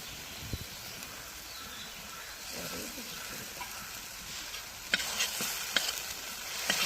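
Cumin paste and coriander powder frying in hot oil in a pan for a Bengali fish dish, a steady close sizzle throughout with a few sharp spoon clinks and scrapes of stirring near the end.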